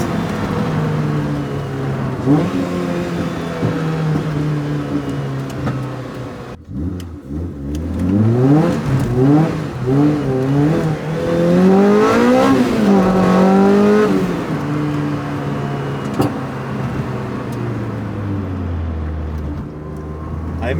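A Toyota MR2's engine revs hard while driving, pitch climbing and falling in repeated sweeps as it accelerates through gears, loud and close throughout with a steady drone between pulls.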